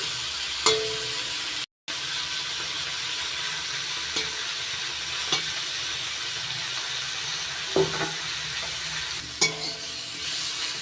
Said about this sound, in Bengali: নাড়াচাড়া করে আরেকটু ভেজে নিচ্ছি।